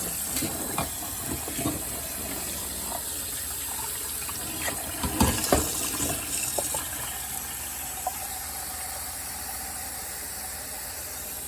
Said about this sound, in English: And then I put cold water on it.